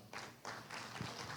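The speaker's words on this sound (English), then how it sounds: "Let's give him a round of applause." Faint applause from an audience welcoming an ambassador at an Asa Day Canada event, a soft, steady patter of many hands that swells slightly and continues for about a second and a half.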